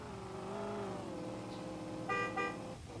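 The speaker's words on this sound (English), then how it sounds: "There's a horn." At a motorsport qualifying session, an engine drones with rising and falling pitch, then a car horn gives two short, bright honks near the end, signalling the start of a qualifying run.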